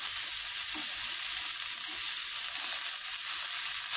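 Saag greens fry in a hot pan with a dense, even, bright sizzle that holds steady throughout, close and fairly loud, with only faint low bumps beneath.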